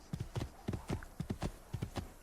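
A horse gallops in Assassin's Creed II, a steady rapid clip-clop of hooves close and fairly loud, the drumming rhythm repeating in quick groups without any voice over it.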